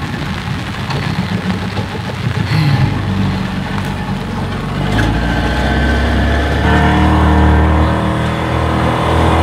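A motorboat engine running loud and close on the Essequibo River by Wakenaam Island during net fishing, a steady throaty drone that swells as it picks up speed, with water and wind noise mixed in.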